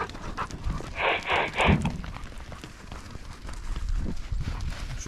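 Hunting dogs released on a wild boar hunt pant hard at close range in a quick burst early on, over rustling outdoor noise and low rumbles.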